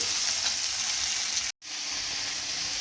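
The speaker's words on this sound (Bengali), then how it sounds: "মাছটা ভাজা হয়ে গেছে ওই একই তেলে উচ্ছেটা ভেজে নেবো" Bitter gourd frying in oil left over from frying fish gives a steady, close sizzle that cuts out for a split second partway through, then resumes.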